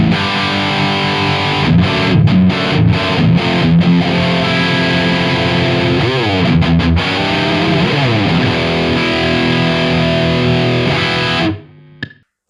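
Heavily distorted electric guitar through a Marshall 1959SLP reissue amp with a Vortex high-gain mod using three gain stages in the low input, a loud, continuous riff with palm-muted chugs and sliding chords, ending in a sudden cutoff.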